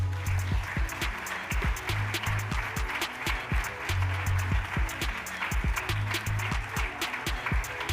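A conference audience at a summit applauds in a sustained round of clapping that blends with rhythmic, beat-driven music playing at the same time, steady and moderately loud throughout.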